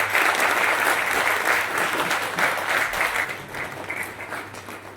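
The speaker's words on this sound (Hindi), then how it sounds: "जोरदार तालियां।" Sustained, dense applause from a theatre audience after an amateur stage performance of Andha Yug at the Gaiety Theatre, steady and fairly loud throughout with no break.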